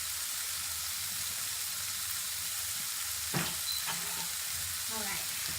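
Steady hissing sizzle of onions frying in a pan, with a couple of brief scraping stirs partway through.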